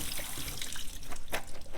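Water from a kitchen faucet runs and splashes softly over food being rinsed, a faint, steady trickle with small irregular splashes, close by and without talk.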